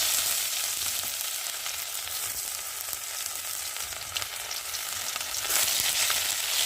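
Ginger paste frying in hot oil for tempering with bay leaves and cumin, a dense close sizzle and crackle that holds steady throughout, louder near the end.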